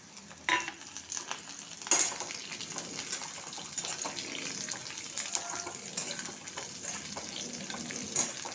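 Pointed gourd and dry fruits frying in a pan, with steady soft sizzling, stirring scrapes and a few sharper clatters, close and continuous.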